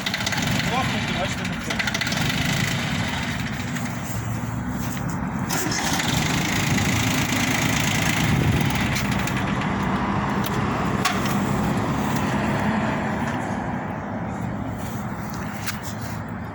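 A hot F13D engine starts and runs at a steady idle, a continuous mid-loud rumble heard under ongoing conversation throughout.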